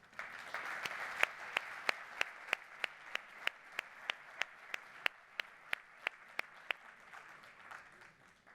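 An audience at the opening of a medical profession convention applauds steadily, a dense bed of clapping punctuated by loud, evenly spaced rhythmic claps that keep time for several seconds.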